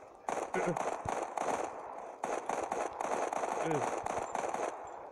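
Rapid bursts of automatic gunfire in a video game crackle in quick strings, loud and close, with short pauses between volleys and faint voices underneath.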